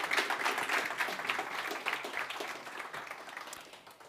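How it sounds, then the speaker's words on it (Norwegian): Audience applause at a government energy-saving presentation, moderately distant steady clapping from a crowd, slowly tapering off toward the end. "En applaus."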